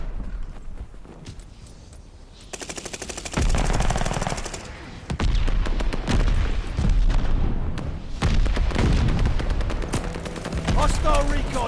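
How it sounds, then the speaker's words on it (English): Mortar fire lands during Call of Duty gameplay on PS5 in a winter event match. Heavy booming impacts mix with rapid bursts of gunfire, loud and close, with brief in-game voice callouts. "Friendly mortar fire coming."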